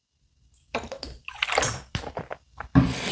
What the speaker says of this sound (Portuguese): Beber um pouco de água aqui.